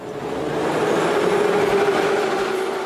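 A Moscow Metro subway train rumbles steadily underground, a loud, continuous droning roll with a sustained tonal hum and faint rhythmic clatter, no voices.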